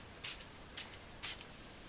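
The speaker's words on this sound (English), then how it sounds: "Maybe a bit more spraying." Three short hissing spritzes from a spray bottle, each a quick burst or two, close and fairly quiet, spaced about half a second apart.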